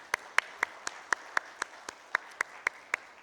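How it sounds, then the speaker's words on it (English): A single slow, steady handclap repeats about a dozen times at even intervals, each clap crisp and distinct over a faint room hum, at an industry conference inaugural session. "So a huge round of applause to all these films"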